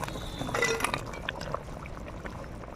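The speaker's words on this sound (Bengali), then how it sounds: "ফুটে গেছে, এখন মাছ আর আমি ডালের বড়িগুলো দিয়ে দিচ্ছি।" Fish and lentil dumplings are dropped into a boiling curry broth for an eggplant and tangra fish dish, giving a few close splashes and light clinks over a soft bubbling simmer.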